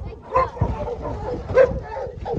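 Several ranch dogs give short yips and barks close by while being loaded up. The barks are brief and mixed in with someone talking to them.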